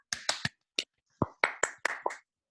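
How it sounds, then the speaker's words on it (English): Scattered claps from a few participants in an online meeting, about ten sharp, separate hand claps spread irregularly over two seconds, with no talk. "Will everyone give Frank a round of applause"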